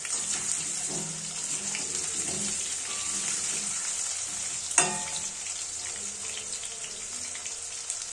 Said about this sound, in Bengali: খুব সুন্দরভাবে নাড়াচাড়া করে আমরা গাজর এবং আলুটা ভাজতে থাকব